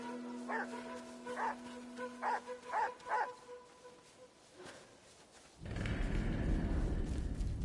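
Dog barks and whimpers from the video game Ghost of Yotei: a run of five sharp yelps, then a pause and a loud burst of rough noise as the fight continues.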